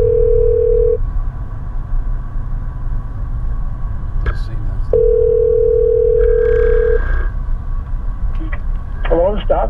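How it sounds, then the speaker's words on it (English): A telephone call being placed, heard from inside a car: a steady dial-like tone sounds twice, then ringback chirps come in under engine rumble and a voice. "Let's give him a call."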